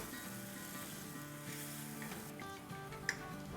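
Chicken pieces coated in gram flour (besan) frying in a pan, giving a faint, steady sizzle throughout, with a light clink near the end and soft background music.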